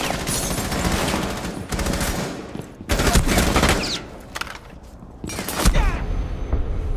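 Gunfire during a competitive shooter match, loud bursts of rapid shots and impacts in several waves, with short quieter gaps between them.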